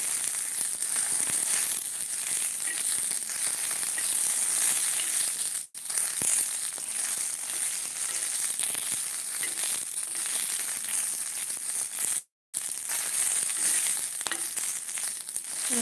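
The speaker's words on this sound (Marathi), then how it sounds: "छान भाजून आहे मिरच्या अगदी खरपूस" Green chilies roasting in a pan for a village-style thecha: a steady, dense crackling and sizzling that runs close and loud throughout, broken by two brief dropouts, with no voices.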